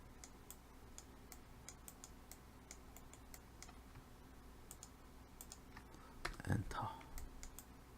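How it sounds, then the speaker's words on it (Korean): Computer keyboard keys tapped in light, irregular clicks while modeling a rocket on a computer, with one louder knock near the end and faint talk in the background. "일단은 엔터를 쳐놓습니다"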